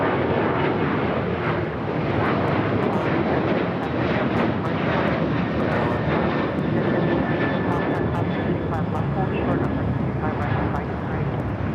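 A fixed-wing airliner roars through a takeoff roll on runway 25 left at LAX, a loud, continuous broadband jet engine rush sustained throughout, with a faint tonal whine above it and no pauses.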